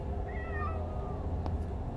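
Cats meow in the horror game Frightence: a faint, drawn-out wavering meow with a second short cry near the end, over a steady low droning game ambience, with no speech.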